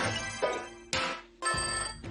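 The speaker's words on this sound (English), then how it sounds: "So it's the 3 to 1 go count that sounds like this." Three short vocoded electronic tones with a buzzy, robotic character, each ringing briefly before the next, the last one longer and brighter: the 3-2-1-go countdown in the game Unspottable.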